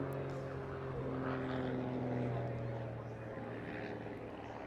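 A propeller trainer aircraft flies a barrel roll at the Eastbourne International Airshow 2022, its engine a steady, droning hum with a slight rise and fall, heard at a distance under an open-air backdrop.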